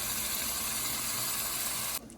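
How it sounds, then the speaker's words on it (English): Tap water sprays and gushes into an emptied sauce bottle to rinse it out, a steady hissing rush running close and loud for about two seconds before cutting off abruptly. "Then we're gonna get some water and wash this out."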